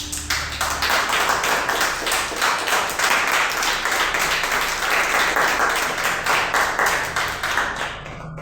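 A church congregation breaks into loud, dense applause, many hands clapping steadily and close for several seconds before tapering off at the end.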